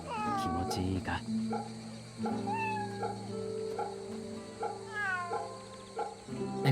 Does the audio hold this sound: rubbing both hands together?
no